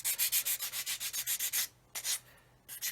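Sandpaper rubs a round profile onto the rudder of a 1/32 scale Kitty Hawk OV-10 Bronco model aircraft, making quick, rhythmic scratchy strokes, about a dozen in a row, then a pause and a few more.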